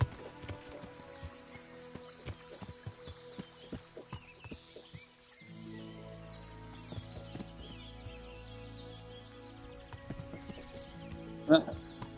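Horse hooves clip-clop at a steady walking rhythm in the medieval role-playing game Kingdom Come: Deliverance, close and moderately loud alongside game music and occasional voices, with a sharper burst near the end.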